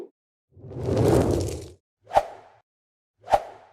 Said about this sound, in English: for example short whooshes